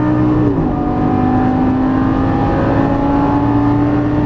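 Lamborghini Gallardo Superleggera LP570-4 at full throttle, its engine note climbing loud and close, then dropping at a quick upshift and rising again in a sustained howl.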